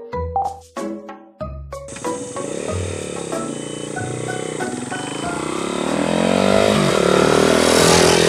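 A mini moto with a Zongshen 125cc engine starts with a few blips, then rides off, its engine note rising and droning steadily louder as it accelerates.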